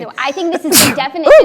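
A single sudden sneeze bursts out during a studio talk-show conversation, a sharp breathy blast in the middle of ongoing speech.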